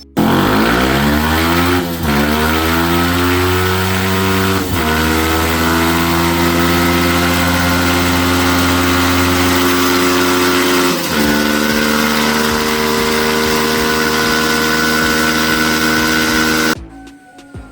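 A Yamaha Sniper 150 motorcycle fitted with a freshly replaced exhaust pipe runs steadily on a stand at a tuning shop, a loud continuous engine drone with brief revs, shifting pitch at about 2, 5 and 11 seconds before cutting off.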